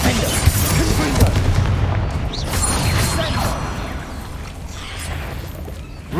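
Confringo spell explosions and combat in Hogwarts Legacy, booming blasts and crashes rolling across the scene, with a voice speaking over the action.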